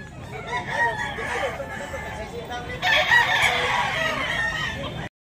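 Filipino gamecocks crow at a sale yard, overlapping rooster calls loud and close for several seconds before cutting off abruptly.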